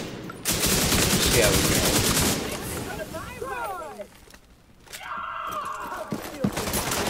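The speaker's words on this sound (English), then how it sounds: "Yeah, the shotgun." Shotgun fire in a video game, heavy rapid reports early on, then a pause and a few more scattered blasts later, with someone talking over part of it.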